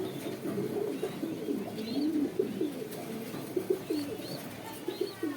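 Racer pigeons at a crowded pigeon sale coo in low, throaty repeated phrases that overlap steadily, with faint chirps and background murmur around them and no clear speech.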